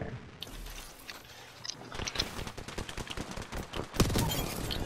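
Rapid bursts of gunfire in the online shooter Apex Legends, several clustered shots and short automatic volleys fairly close, the last burst loudest, with no voices over it.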